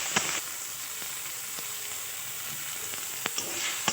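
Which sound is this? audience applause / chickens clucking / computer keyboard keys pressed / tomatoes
tomatoes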